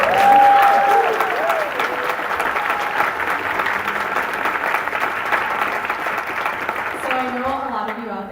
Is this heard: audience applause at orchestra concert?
yes